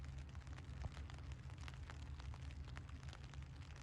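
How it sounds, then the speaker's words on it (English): A faint, steady patter of rain on a taut tent rain fly while camping in Denali National Park, Alaska, with a low car engine rumble droning underneath. "But I hear the sound of the rain on my rain fly."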